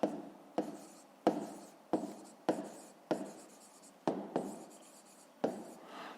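Pen writing on paper while solving a fifth-grade maths exercise: close, distinct scratchy strokes in a stop-start rhythm, about ten short bursts separated by brief pauses, with no voices.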